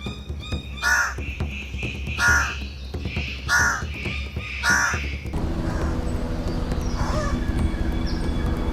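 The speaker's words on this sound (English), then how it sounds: "perform an extraordinary sequence of movements accompanied by vocalizations to try to attract the females" In a New Guinea forest, a bird-of-paradise gives four loud, harsh crow-like caws spaced about a second and a half apart during a courtship display, followed by softer distant calls over a steady background rumble.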